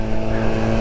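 A 1983 Honda Motocompo two-stroke scooter engine running, a steady buzzing drone heard up close and fairly loud, alone without talk.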